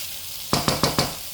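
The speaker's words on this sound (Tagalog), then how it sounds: "Lagay na natin, guys, ang ating kamatis. Ayan. Igisa-gisa natin." Tomato going into a hot pan with ginger and onion, four sharp sizzling bursts close by as pieces hit the oil and are stirred, with no talk.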